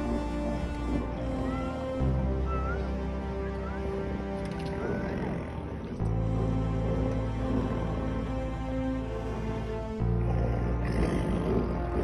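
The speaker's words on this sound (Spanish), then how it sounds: "Vimos una pareja de tigres apareándose muy cerca de nosotros. La verdad que no pasó nada, pero el sonido increíble." A pair of wild tigers mating very near a safari group in India give deep, sustained growls and roars that sound close, over a steady low rumble.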